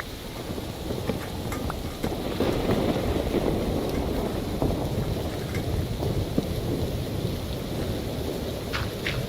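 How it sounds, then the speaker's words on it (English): Thunderstorm ambience in World of Warcraft: steady rain patters and hisses continuously, with low rumbling thunder rolling underneath and scattered sharper drops, an unbroken enveloping storm bed with no talking. "It's like you're at a home listening to the rain hit the tin roof"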